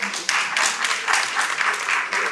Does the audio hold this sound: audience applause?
yes